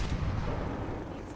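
A junk mortar launching Mama Murphy in the Fallout 4 video game, a single heavy, muffled blast with a deep rumbling tail that fills the short moment.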